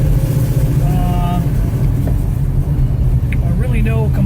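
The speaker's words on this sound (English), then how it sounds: "The car's been probably running for 25 to 27 minutes" A 1971 Plymouth Barracuda custom with a 4-speed, its engine running warm after a long idle, a steady low rumble close by with people talking over it.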